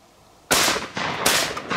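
Shotgun blasts during pigeon hunting over a pea field: two or three loud, sharp reports about three-quarters of a second apart, each trailing a short echo across open ground, with no talking.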